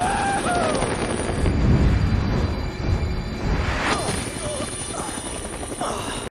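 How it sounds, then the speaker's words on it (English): A military helicopter's rotor in the video game Dead Rising thumps and whines loudly amid game sound effects and a few bangs, with the chopping holding steady throughout. "And after getting attacked by military helicopters, Frank decides to jump off at the roof of th"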